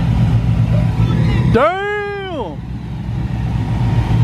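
A right-hand drive Toyota Chaser revs and drives past nearby, its engine note rising and falling in a brief loud sweep, with a voice exclaiming over the top.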